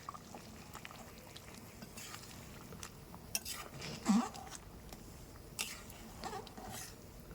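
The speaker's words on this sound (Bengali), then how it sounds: "তো ঝোলটা ফুটতে থাকুক" Chicken curry gravy simmers in a pot, cooked with ground spice paste and green chilies, giving a steady low bubbling texture with a few louder pops and clinks of cookware.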